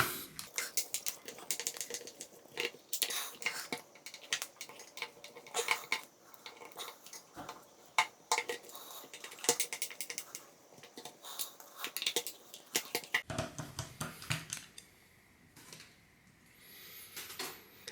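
Small screws are taken out of a Makita HP331D cordless drill at close range, a sped-up flurry of quick metallic clicks, taps and rattles, followed by a softer scraping stretch near the end.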